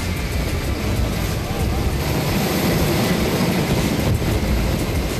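A Russian Ka-32 heavy helicopter during a rescue training exercise, a loud steady rotor and engine roar that fills the whole stretch without letup.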